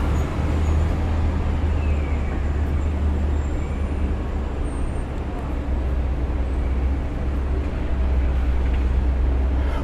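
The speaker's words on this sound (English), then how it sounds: "Way too much traffic noise." Continuous road traffic noise, a steady low rumble of passing cars and heavier vehicles that holds at an even, fairly loud level throughout with no clear pauses, with no distinct talking heard over it.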